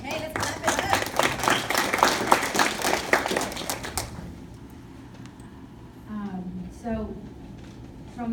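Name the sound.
audience applause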